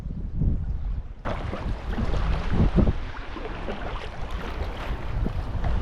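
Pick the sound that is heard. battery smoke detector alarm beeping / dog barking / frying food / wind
wind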